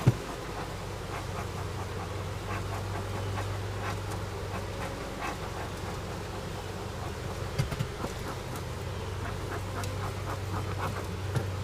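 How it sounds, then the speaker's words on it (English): A honey bee swarm gathered around and clustered on a hive box outdoors, giving a steady, dense hum of many insects with scattered buzzing passes close by and a low continuous drone beneath. "all the bees are going in, and there's a clump that's staying out in the corner of that box"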